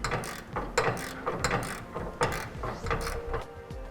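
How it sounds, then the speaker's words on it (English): Flange nut being tightened onto a carriage bolt on a gooseneck hitch handle for a 2007 Ford F-250 Super Duty, giving a run of close, rhythmic ratcheting clicks with metal-on-metal rattles and no talking. "Then with the nut in place, we can tighten it down."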